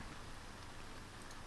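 Steady rain falls in the survival video game Neo Scavenger, a constant even hiss of downpour with no talk, filling the scene at a uniform moderate level.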